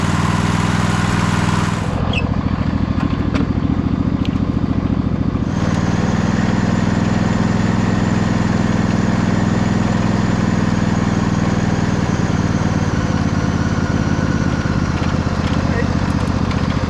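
An MTD White GT2550 garden tractor engine runs loud and close through a test run, with a steady, continuous drone that shifts in tone early on before holding even.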